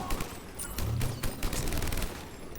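Rapid gunfire bursts from the Mass Effect Legendary Edition video game, a dense, fast volley of shots at moderate loudness with no talk over it.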